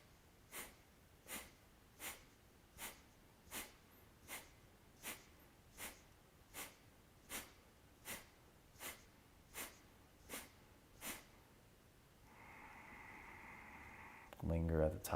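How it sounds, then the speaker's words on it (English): A breathing exercise class runs through rounds of sharp exhales: about fifteen quick, evenly spaced puffs of breath, close and distinct, each less than a second apart, followed by a softer sustained breath and a sudden louder noise at the end. "we're going to do 15 rounds of exhales"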